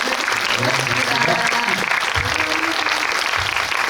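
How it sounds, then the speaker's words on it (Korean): Continuous audience applause filling a cinema auditorium after a film guest talk, dense clapping at a steady level with some low murmuring underneath. "세 감독님께 큰 박수 보내드리면서 고맙습니다"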